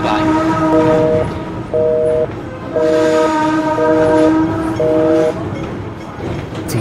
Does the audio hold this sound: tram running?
yes